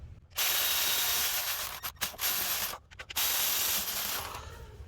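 An air ratchet or similar power tool runs loud and close while bolts are fastened onto the transmission valve body of a Cadillac Escalade 6L50/6L80/6L90, in three bursts separated by brief pauses.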